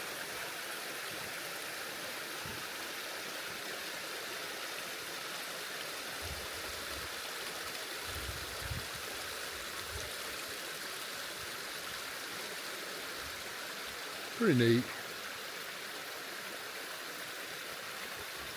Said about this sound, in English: you see water coming right out of the ground